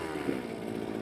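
A vintage two-stroke motorized bicycle engine built from a rototiller motor idles steadily nearby, a continuous buzzing drone with an even, rapid putter and no pauses.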